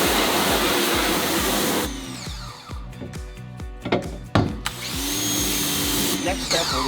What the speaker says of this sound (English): Once our ink's removed, we're going to pressure wash it off.